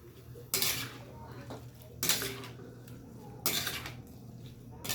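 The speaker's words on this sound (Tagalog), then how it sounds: "Ngayon, halo-halo, tapos takpan natin muli." Chop suey being stirred in a metal pot with a utensil, then the lid set on, giving three sharp clanks of metal on metal at intervals with softer scraping between, close and fairly quiet against a steady low hum.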